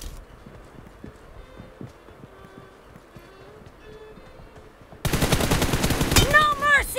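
Rapid gunfire from an M4 rifle in the mobile battle royale game BGMI, first as faint distant popping shots, then a sudden loud, dense burst of close automatic fire in the final two seconds.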